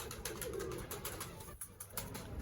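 Pigeons coo softly in a quiet space, low rounded calls under faint rustling and light clicks, fairly distant and gentle.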